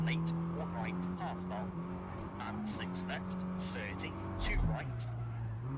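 Engine of a rally car that is lacking power in the EA Sports WRC racing game. It drones steadily and fairly quietly, with brief tire and gear noises and a swell near the end, while someone talks over it.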